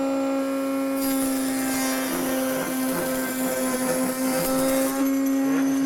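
A router spinning a large-diameter bit at around 12,000 to 14,000 RPM cuts a wood pattern along a bearing for arched raised panels, a loud steady high whine with rough chattering bursts as the bit bites the wood.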